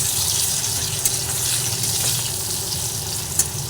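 Turmeric powder fries in a pan for a rui fish curry, giving a continuous, fairly loud hiss and sizzle with a couple of soft knocks.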